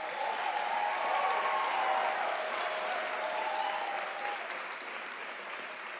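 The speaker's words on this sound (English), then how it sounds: "Let us give them a round of applause." A large audience applauds at a university graduation ceremony, sustained and even, with a faint tone in the background that slowly fades toward the end.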